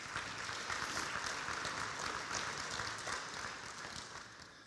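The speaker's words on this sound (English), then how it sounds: "So give her a round of applause." Applause from an audience at a high school football hall of fame induction ceremony, a fairly faint, even wash of clapping lasting several seconds with no talk.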